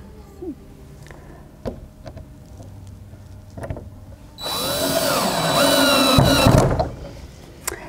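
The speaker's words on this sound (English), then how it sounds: "Drill it in." A power drill drives into a wall to hang an antique brick mold, a loud whirring burst of a few seconds up close, preceded by quieter handling clicks and thumps.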